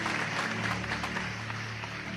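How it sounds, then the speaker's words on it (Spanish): Steady, dense applause from a large church congregation during a Spanish-language worship service, continuous clapping with a low hum underneath throughout. "Aplauda al Eterno de manera especial. Un aplauso a Dios, por favor."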